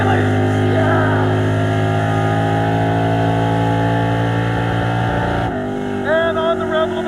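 Crusher Camaro drag car bouncing hard off the rev limiter on a strip launch, a loud sustained engine roar with a sharp drop near the end, voices shouting and cheering over it.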